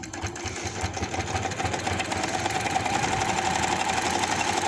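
Sewing machine running a steady, continuous straight stitch along a baby hoodie sleeve, close and even-paced with a faint motor hum and no pauses.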